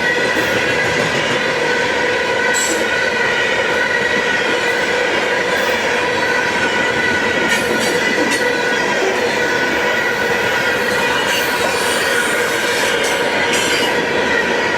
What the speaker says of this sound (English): Loaded potash train.